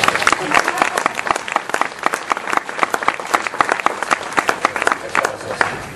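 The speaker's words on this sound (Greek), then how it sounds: "Χειροκροτήστε" Audience applause at a seminar: dense, steady clapping from many hands fills the room, loud and close, with individual claps standing out sharply throughout.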